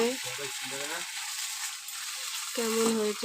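Banana flower curry with prawns sizzles steadily in a pan as it is stirred after a pinch of sugar goes in, a close, continuous frying hiss, with a voice talking at the start and end.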